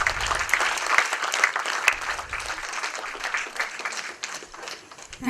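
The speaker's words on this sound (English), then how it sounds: "Please give a round of applause." A conference audience claps after a chief guest is introduced: dense, sustained applause from many hands for several seconds, with scattered individual claps standing out and a brief low voice near the end.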